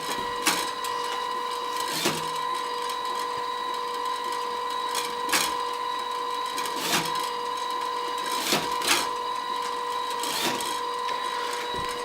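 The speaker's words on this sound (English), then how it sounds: "You can just continuously load the machine during operation." A LAB500 packaging machine runs with its conveyor belt in a steady mechanical hum, punctuated every second or two by sharp clicks and clunks of the cycling mechanism, close and continuous without talk.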